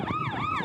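A police car siren wails on a street in Xindian, New Taipei, signaling a car to stop, its pitch sweeping up and down in a steady loud cycle over road noise.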